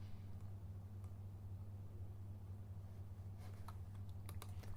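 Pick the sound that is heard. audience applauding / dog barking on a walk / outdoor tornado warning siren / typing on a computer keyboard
typing on a computer keyboard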